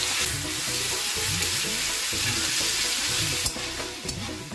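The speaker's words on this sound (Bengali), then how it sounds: "মা পেঁয়াজটাকে লবণ দিয়ে হালকা করে ভেজে নিল, তারপর তার মধ্যে দিয়ে দিল রসুন বাটা।" Onion softened with salt, then garlic paste, frying in a pan: a steady broadband sizzle runs throughout, with a faint tonal layer beneath it.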